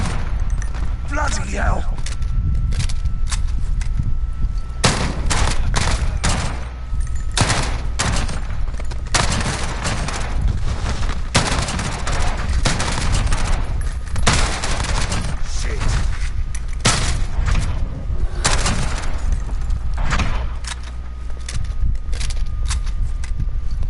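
Rapid machine gun fire from a drum-magazine weapon in Modern Warfare survival mode, loud long bursts and dense volleys with brief pauses, while someone talks and exclaims over the shooting.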